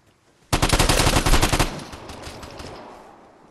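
A long burst of rapid automatic gunfire erupts in the survival shooter Vigor, lasting over a second, then fades into echoing tails and a few scattered distant shots, with no talk.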